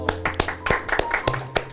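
A class of students claps for a classmate, a few sharp, uneven claps spaced across the moment, close and fairly loud, with a faint low hum and some background voices.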